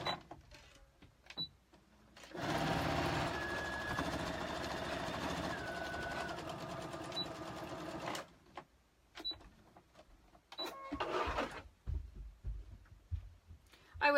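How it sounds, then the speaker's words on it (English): Sewing machine stitching down the middle of a fabric card holder, a steady mechanical run of about six seconds with sparse handling noises before and after. "Now we're going to sew down the middle again."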